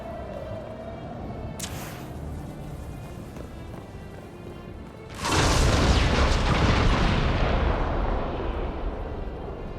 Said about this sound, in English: Luckily, that was a very subtle explosion.